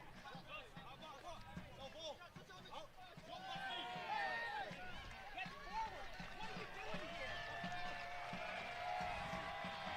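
A stadium crowd at a Vermont Green FC versus Seacoast United soccer match rumbles steadily and swells louder partway through, pushing the team forward in a late attack, heard beneath a commentator's continuous talk.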